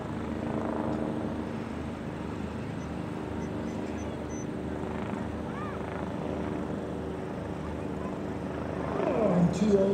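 A helicopter carrying skydivers at an airshow drones steadily overhead with a low rotor thrum, while faint voices murmur underneath.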